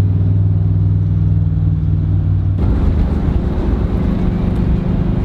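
A supercharged hot rod from Norway at Streetweek Sweden rumbles loudly and close with a steady deep drone, then the sound shifts midway into a broader, rougher roar as it keeps running, with no voices.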